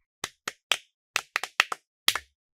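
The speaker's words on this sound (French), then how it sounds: "Pouvez-vous applaudir pour Gift?" Eight sharp, separate hand claps ring out in an irregular rhythm, close and crisp, with no voices, as a classroom scene applauds a pupil for a correct answer.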